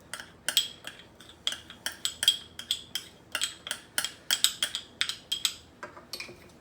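A spoon scrapes and taps repeatedly against a bowl while yeast mixture is scraped into pizza dough, giving a quick irregular series of close metallic clicks and chinks with no talk.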